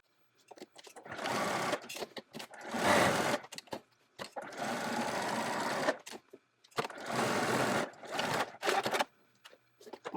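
A sewing machine stitches around a fabric Halloween applique on a trick-or-treat bag, running in three or four close, steady bursts of rapid whirring with short pauses between them.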